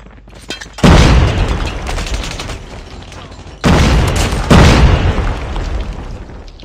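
Grenade explosions in Call of Duty Mobile: three loud, close booms each followed by a long rumbling decay, the first at the start and two more in quick succession later.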